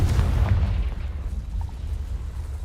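A Confringo spell explodes in the Hogwarts Legacy video game, a loud, deep boom that bursts at the start and then rumbles away into a fading low tail.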